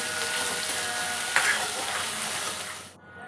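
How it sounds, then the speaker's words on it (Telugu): Sliced onions fry with green chilies and curry leaves in hot oil, a steady close sizzle with a sharp clink of a utensil partway through, fading abruptly near the end. "ఇంకా అందులోనే ఆనియన్స్ కూడా అయితే వేసేస్తున్నాను. ఇది కొంచెం వేగాలి."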